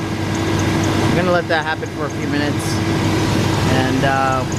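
A Blazer engine idles steadily with a low, constant hum and fan-like drone beneath someone speaking nearby.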